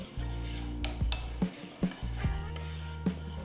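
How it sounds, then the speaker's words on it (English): Moong dal roasting in a pan on a medium flame, a steady low sizzle broken by several scraping stirs and light clinks of the spoon against the metal. "To a pan, add quarter cup of moong dal and roast it slightly on medium flame for about 2 to 3 minutes"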